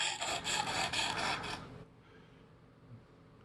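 A knife is drawn across the stone of a Work Sharp Precision Adjust sharpener in about six quick, even rasping strokes, close and clear, then the scraping stops and only quiet room tone remains.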